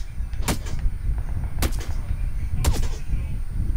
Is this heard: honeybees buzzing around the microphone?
no